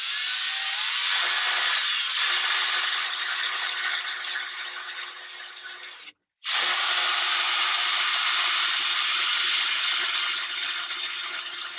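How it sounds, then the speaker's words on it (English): Power drill with a metal bit boring a pilot hole through the sheet-metal body of a Ram ProMaster van for a window cutout, a loud steady whine that drops out briefly midway and then resumes. "we're going to take a metal bit here and drill a pilot hole"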